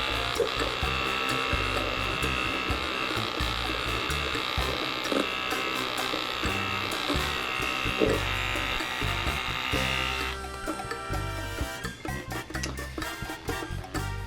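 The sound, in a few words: electric makeup brush cleaner spinning a brush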